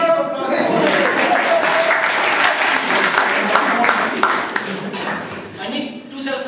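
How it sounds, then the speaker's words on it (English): Audience applause at a speaking club's table topics meeting: dense, sustained clapping from a roomful of people, loud and steady throughout, easing slightly near the end. "Maybe big round of applause."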